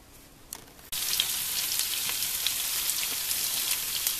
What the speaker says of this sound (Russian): На другой сковороде я слегка обжарю до золотистого цвета, обжарю лук и морковь